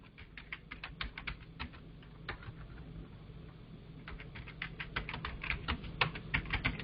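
Code is typed on a computer keyboard in quick, uneven bursts of light clicking keystrokes, close and clear, with a brief pause midway and no talking.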